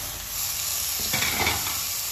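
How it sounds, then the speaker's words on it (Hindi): Tomatoes being stirred into capsicum frying in a pan for egg Maggi noodles, a steady close sizzle with a scraping stir of the spatula partway through, no voices. "इनू भी चंगी तरह मिक्स कर दो।"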